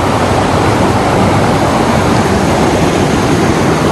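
Clear mountain stream at its headwaters rushing steadily, a loud, close, unbroken roar of flowing water with no voices.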